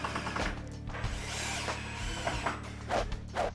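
A power drill drives screws through a glued wooden side apron into a kitchen island leg, in several short whirring bursts with brief pauses, fairly close.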